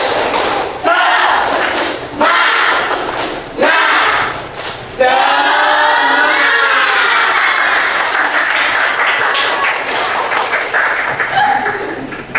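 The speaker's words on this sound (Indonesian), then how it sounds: "Lagi tepuk semangat." Classroom of students at an economics lesson doing a loud rhythmic spirit clap, sharp group claps in a patterned beat at first, then a longer stretch of claps mixed with shouting voices.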